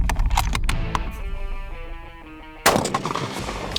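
A rifle fitted with added balancing weights fires loud, sharp gunshots, a quick run of cracks at the start, then a ringing pause before another close, heavy shot.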